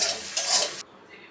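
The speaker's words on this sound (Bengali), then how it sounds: "একটু নুন দিয়ে এবার আমি একটু নেড়ে ঢাকা দিয়ে দেবো।" Okra frying in a pan with a pinch of salt is stirred with a quick scraping sizzle that cuts off abruptly partway through, leaving quiet.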